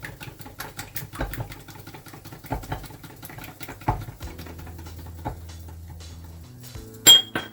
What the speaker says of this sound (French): Je bats l'œuf.